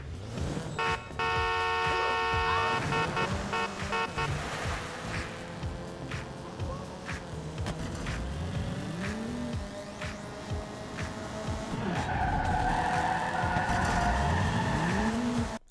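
A car in Watch Dogs 2 revs and drifts loudly, its engine rising and falling. Tires squeal through the slides, and a horn tone sounds early on, with no talking.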